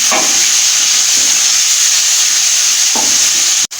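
Masala roasting and frying in a pan for an aloo baingan sabzi, with a loud, steady hiss and a few stirring scrapes. The sound cuts off abruptly at the end.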